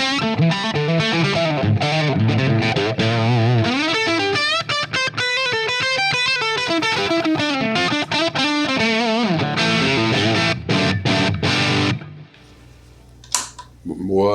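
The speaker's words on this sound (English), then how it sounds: "More a fuzz type of distortion." An electric guitar runs through a Shanks 4K fuzz pedal and an EHX Micro POG, giving loud, thick, buzzing fuzz chords and sustained notes that play continuously before cutting off to near silence with a last stray pluck.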